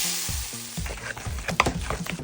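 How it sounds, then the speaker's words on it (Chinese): Hot oil poured over chopped scallion and ginger in a bowl of seasoned pork filling gives a sharp, crackling sizzle with bursts of popping. The sound is close and steady and carries no speech. "浇点热油，激发一下葱姜的香味儿。"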